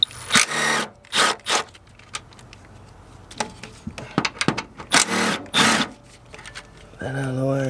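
Two 13mm exhaust hanger bolts come off an Audi S3: close, buzzing bursts of a ratchet or power tool in rapid, uneven spurts, then a steadier stretch, with a voice briefly at the end.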